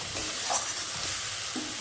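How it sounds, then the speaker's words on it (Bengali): Spice masala with chili powder fries in oil with a dense, constant sizzle, while a spoon stirs through it with faint scraping. "একটু ভালো করে নাড়াচাড়া করলে মশলাটা যাতে একটু ভাজা ভাজা হয়"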